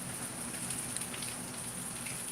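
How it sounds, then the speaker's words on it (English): Rainwater running off a roof and down a drainpipe, splashing outside: a steady, even wash of hissing water noise throughout, faint and continuous, with no voices. "water's coming off the roof down the pipe. You can hear it splashing out there."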